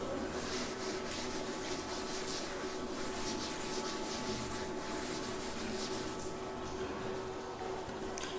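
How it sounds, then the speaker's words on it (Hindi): Steady dry rubbing of a duster or cloth across a writing board while a physics lecture pauses, a continuous close scraping texture with no speech over it. "तो मैं थोड़ा इधर रब कर देता हूँ"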